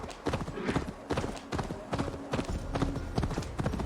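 Horse galloping in Assassin's Creed Valhalla, with rapid rhythmic hoofbeats thudding steadily and close throughout, plus faint game sounds underneath.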